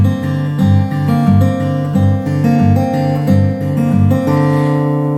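An acoustic guitar plays a picking pattern at a quicker tempo, the repeating notes cycling evenly and ringing clearly up close, with no voices over it.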